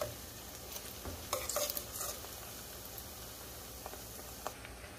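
Garlic and onion sizzle steadily in hot oil for a tomato sauce, a soft continuous crackle with a few brief stirring scrapes, close and moderately quiet, no voices.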